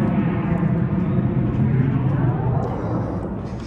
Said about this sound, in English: I don't know if you heard that airplane.